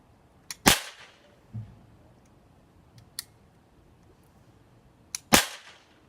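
A toy cap gun fires three loud, sharp cracks spaced a few seconds apart, with fainter clicks of the mechanism in between, heard close up.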